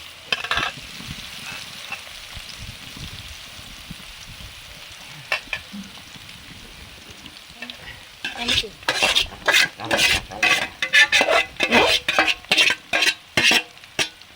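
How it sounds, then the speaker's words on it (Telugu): Raw banana pieces tossed into a pan with mustard seeds and curry leaves, a soft sizzle at first, then a loud run of rapid, rhythmic scraping strokes of a spatula against the pan, close and dominant. "అరటికాయ ముక్కలు వేసేస్తున్నాను"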